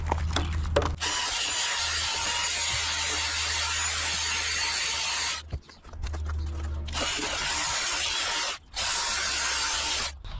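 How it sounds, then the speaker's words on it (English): A wire wheel scours the inside of a rusted tractor rim on a John Deere B with a loud, steady, hissing grind. It cuts out briefly twice, and a low motor hum comes in at the start and again during the pause. "I'm going to take a wire wheel to the inside of the rim and see if we can tell the condition of the metal"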